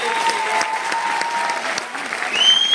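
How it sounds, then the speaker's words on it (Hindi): Enthusiastic applause from an audience, continuous clapping with a few faint tones and voices mixed in. "मैं चाहूंगा एक बार जोरदार तालियां one and only Sonu Sharma sir"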